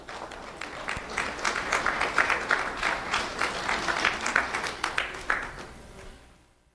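Sustained applause from an audience at a sheriff's office awards ceremony honoring children, steady dense clapping for several seconds before tapering off at the end.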